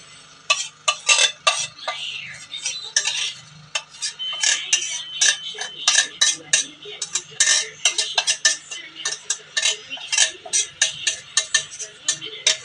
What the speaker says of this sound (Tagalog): simutin natin yung ano guys, yung sauce na inano natin